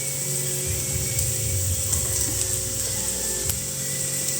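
Onions sautéing in a pan, a steady close sizzle and hiss that holds without a break, with faint scraping stirs now and then.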